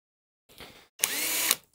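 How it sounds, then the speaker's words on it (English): A power drill with a 3 mm bit whirs in two short bursts boring holes in a guitar neck, the second louder and higher-pitched, close by with brief silences around them. "I'm going to take a 3 millimeter drill bit and drill 2 more holes"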